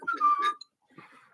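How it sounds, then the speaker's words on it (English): A short, clear whistled tone, slightly wavering, followed by a pause and some faint background sounds. "start whistling"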